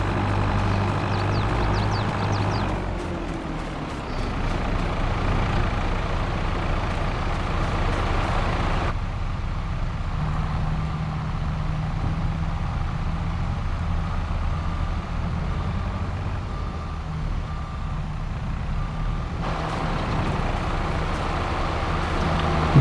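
A tree planting machine in Farming Simulator 22 works the ground with a steady engine drone and churning rumble, loud and continuous throughout, its tone shifting slightly as the load changes.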